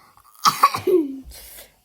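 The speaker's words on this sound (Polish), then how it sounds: "Akurat musisz teraz kaszleć?" A young boy with a mild illness coughs in a quick burst of three or four harsh, close coughs, followed by a fainter breathy sound.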